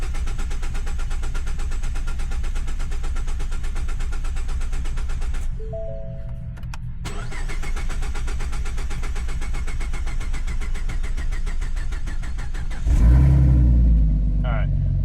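A 2015 Ford Mustang engine cranking on a weak, dying battery: loud, steady mechanical churning close by, a short lull with faint tones midway, then a heavier low-pitched surge near the end.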